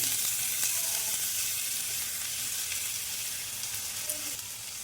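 Onions and potatoes fry in a pan, a continuous soft sizzle and crackle with faint stirring sounds, fairly quiet and steady with no voices.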